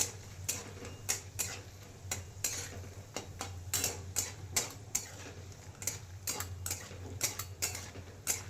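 A metal spoon or spatula stirs onion-garlic masala with asafoetida in oil in a pan, knocking and scraping in a loose irregular rhythm of sharp clanks over a low hiss, with no voices.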